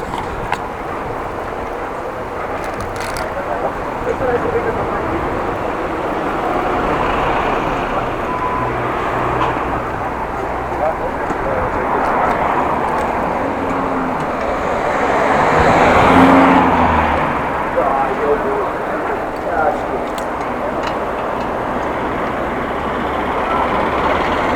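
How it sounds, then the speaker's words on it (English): Busy road traffic on Korreweg in Groningen, heard from a bicycle: a steady broadband roar of cars and motor vehicles passing close by, swelling as a louder vehicle goes past midway, with no talk. "Having a look out in the traffic because it's busy."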